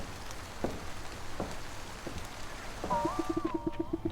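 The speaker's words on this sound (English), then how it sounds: "It's bucketing down outside." Steady broadband wash of heavy rain pouring outside in a video game, a continuous hiss with faint scattered drops, joined late by a tonal musical chime pattern.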